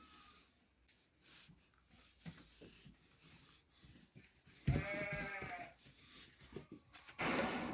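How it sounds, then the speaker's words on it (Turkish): Sakız sheep bleat nearby, a long wavering call rising out of quiet farmyard rustling, then another loud bleat near the end. "Sakız koyun"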